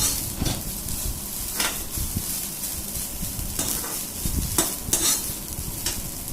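Ragi flour being stirred in a frying pan as jaggery syrup goes in over a medium flame, giving a steady scraping, sizzling texture with a few sharper scrapes of the spoon against the pan.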